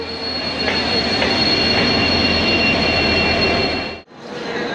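Train rumbling at Panvel railway station at night, a loud steady broadband roar with faint screeching wheel tones and a brief dropout near the end.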